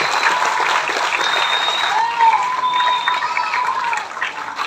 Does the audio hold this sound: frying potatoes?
no